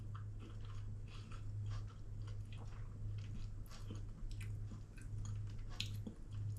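Someone chews a soft cake baked directly in a Ninja air fryer basket, with small wet, squishy mouth sounds over a steady low electrical hum and no talking.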